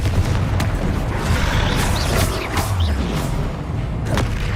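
Booming spell blasts from the Confringo fire curse in Hogwarts Legacy, several dull impacts over dense game-combat noise, steady and loud with scattered crackles throughout.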